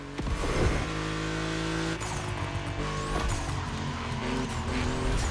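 Volkswagen race cars on a racing game track, engines revving hard with shifting pitch, tires squealing and cars sweeping past, loud and continuous with gear changes breaking the drone.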